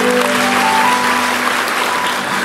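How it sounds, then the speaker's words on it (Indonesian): A church congregation claps together in a dense, loud, sustained round of applause that fills the room from start to end, with faint voices beneath. "Kasih tepuk tangan untuk Tuhan"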